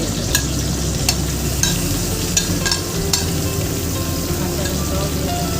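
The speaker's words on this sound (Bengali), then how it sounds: "নরম হয়ে গেছে, এখন বেগুনগুলো দিয়ে দেবো।" Eggplant sizzles steadily in a hot pan while a utensil stirs it, with sharp scraping clicks recurring every half second or so over a constant close frying hiss.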